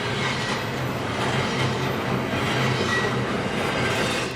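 Train passing on a commuter railroad line, a steady, dense rumble with rail clatter filling the whole stretch, loud and continuous with no talk.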